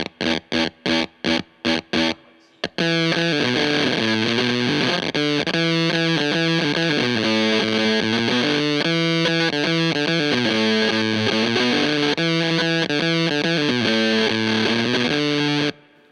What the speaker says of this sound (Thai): มันจะมีเสียงน้อยฉีกๆเหมือนฉีกเวลโคอยู่ตอนเล่นโน้ตเปล่าตอนปล่อยโน้ตเปล่า